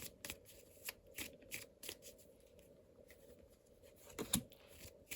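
Tarot cards being shuffled by hand, repeated quick riffling bursts in a steady rhythm, close and fairly quiet, with no talking over them.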